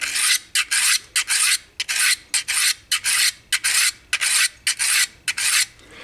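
A knife edge drawn in repeated rasping strokes across the 300 grit side of a Harbor Freight diamond hone block, about a dozen bright scraping passes in an even rhythm, loud and close with no voices.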